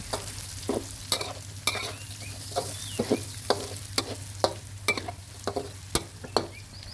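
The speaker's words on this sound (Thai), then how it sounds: "จากนั้นครับก็ใส่พริกแห้งลงไป ครับเป็นพริกแห้งเม็ดใหญ่ 3 เม็ดนะครับหั่นแฉลบครับผม ใส่ลงไปผัดให้หอมนะครับ" Large dried chilies, cut on the diagonal, stir-fried with pork in a pan: a steady sizzle runs throughout, broken by repeated sharp scrapes and clatters of the spatula at an irregular rhythm, close and fairly loud, with no talking.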